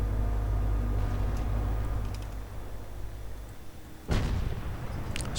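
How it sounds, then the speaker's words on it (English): A Priest self-propelled gun fires in a World War II strategy game, a single sharp artillery report near the end over a steady rumbling battlefield background of engines and distant noise. "Let us go return to Man12345 with this Royal Canadian Artillery, his priest."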